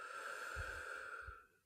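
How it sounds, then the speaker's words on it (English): A person draws a slow, deep breath in, a soft airy rush through the nose lasting over a second before fading to quiet, alone without talk. "We will breathe in, we will hold, we will breathe out"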